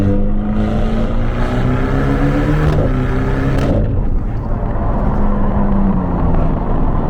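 A Ferrari Portofino on all-season tires accelerates hard and corners, its engine note rising and falling through gear changes, loud and close from inside the cabin, with no talking.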